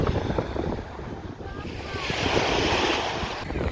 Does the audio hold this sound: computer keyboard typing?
no